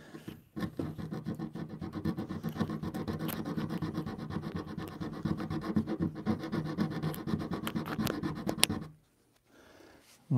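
Wood being sanded by hand with fine sandpaper while building a canopy, a steady close scratchy rubbing that runs continuously for about nine seconds and then stops suddenly.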